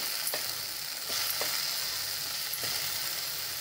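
Drumstick leaves cooking down in a pan as a salted vegetable dish give a steady, close sizzle and fry with a few brief stirring scrapes, and no voices.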